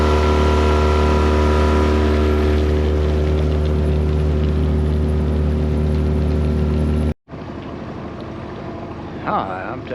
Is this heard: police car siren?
no